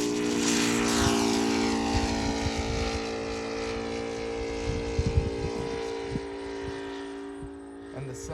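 An Aeroworks Yak 55 RC plane with an ASP 400 radial engine flying steadily overhead, a continuous throbbing propeller drone with a slight pitch sweep, fairly loud and alone with faint bumps of nearby handling.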